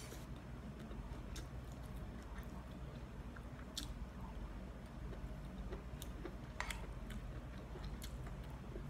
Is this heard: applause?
no